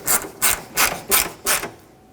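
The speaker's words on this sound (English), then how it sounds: "Reinstall the Phillips head screw at the top." Phillips head screw being turned into the plastic headlight housing of a 1995-2004 Toyota Tacoma, five rhythmic rasping ratchet-like strokes, close and loud, no talk.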